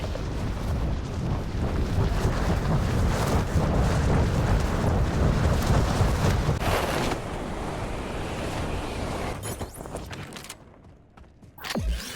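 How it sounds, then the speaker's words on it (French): A loud bomb detonation rumbles in the Black Ops battle royale video game, a heavy, roaring blast that sustains for several seconds before fading out, followed by a quieter scattered rumble. "Nos renseignements signalent une détonation de bombe perso dans la Z2."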